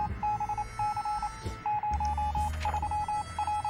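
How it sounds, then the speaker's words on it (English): Repeated electronic beeps from a survival video game set in an apocalypse, sounding in short even bursts at a steady rhythm over a low background hum and game ambience. "Oh, there's a beeping sound."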